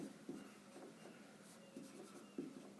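Pen strokes on paper while a geometry proof is written out, soft scratchy bursts in an irregular rhythm, faint and close, with no voice over them.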